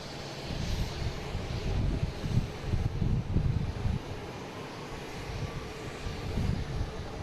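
An Alaska Airlines jet sits lined up on runway 4 right at Boston Logan, its engines a faint, distant, steady roar mixed with wind rumble.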